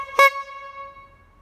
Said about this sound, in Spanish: Y la bocina, como no.